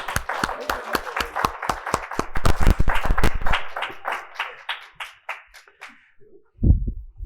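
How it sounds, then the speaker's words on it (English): Conference awards audience claps for a speaker, a brisk burst of many hands that swells, then thins to scattered claps and fades out, followed by a brief low thump near the end. "Glyn Matthews, round of applause."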